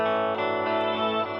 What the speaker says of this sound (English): This mod creates a shimmer effect, generating a rich octave shifted wash of harmony with your guitar.